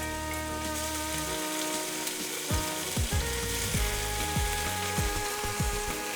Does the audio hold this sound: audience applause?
no